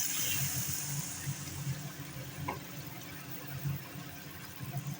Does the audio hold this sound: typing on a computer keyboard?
no